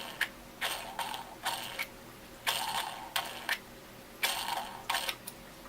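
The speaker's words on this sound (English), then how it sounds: "you can just screw it right into here, and it makes a really satisfying noise" A geocache container is screwed into its tree mount, producing a series of crisp ratcheting, grinding twists in short bursts with brief pauses between, close and clear.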